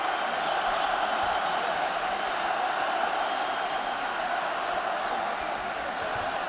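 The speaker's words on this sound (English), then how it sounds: "Sold out crowd here, all here to see Kanat." A sold-out boxing arena crowd keeps up a steady, dense roar from start to finish, with no single voice standing out, during a 2017 bout in Astana.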